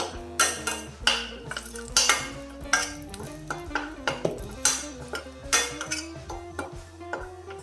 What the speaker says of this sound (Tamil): அதுங்க சேர்த்துட்டு எல்லாத்தையுமா நல்ல கிளறிடலாம்